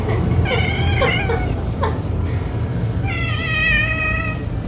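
A black cat meows several times up close, sharp and fairly loud, with longer wavering cries over a constant background hum.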